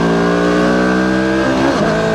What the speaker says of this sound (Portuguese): Vamos dar mais uma esticada